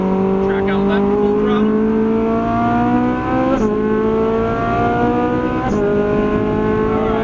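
A Ferrari 458 Italia on a race track accelerates hard at full throttle, its loud engine tone climbing steadily through the gears with two quick upshifts, heard from inside the car.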